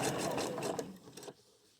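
A sewing machine stitches a center gore on a T-tunic, whirring steadily and close for just over a second before stopping abruptly, leaving near silence.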